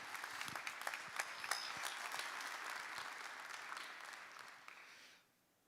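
Applause from an audience at a community conversation meeting, a steady round of clapping that runs for about five seconds and then stops abruptly.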